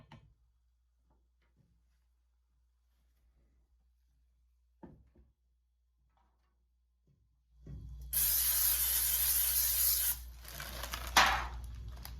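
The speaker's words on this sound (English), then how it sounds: "I preheated a cast iron skillet and lightly coated it with oil. I'm going to saute my vegetables for my dressing." Vegetables hit an oiled, preheated cast iron skillet and set off a loud, sudden sizzle that holds steady for a few seconds after a quiet start with a few faint clicks.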